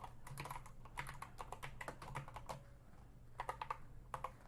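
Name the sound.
typing on a computer keyboard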